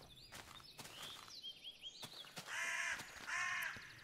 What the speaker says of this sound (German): das Vogelzwitschern. Von dem Ambient-Mod, den ich installiert habe.